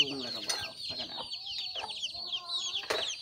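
Chickens clucking close by, with a rooster among the fowl, in a rural Thai or Lao outdoor setting where bamboo shoot curry is being cooked; a steady run of overlapping clucks and short calls, moderately loud, with no talk.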